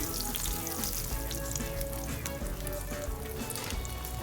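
A crab and egg omelette sizzles and fries steadily in a hot pan after being flipped, a continuous close crackle with no talking.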